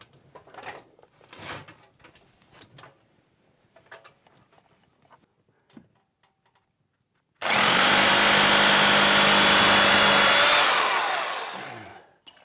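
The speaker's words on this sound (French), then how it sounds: "perceuse à percussion." A hammer drill bores into a wall: after some faint handling noise and a silent pause, the tool starts abruptly and runs loud and steady for about five seconds before winding down.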